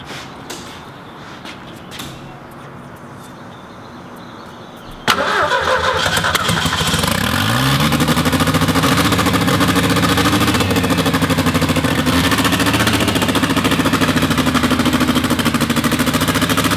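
A Datsun 240Z with a 2.3 engine sits quiet at first, then cranks and fires loudly at about five seconds and settles into a loud, steady, rough idle close by.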